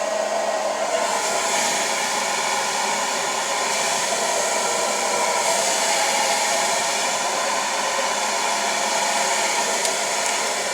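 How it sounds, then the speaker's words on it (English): A hair dryer blows hair dry with a loud, steady, continuous whir that runs unbroken and close by, with no talking. "I will turn my dryer on"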